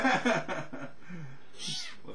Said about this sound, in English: Hello, catbird.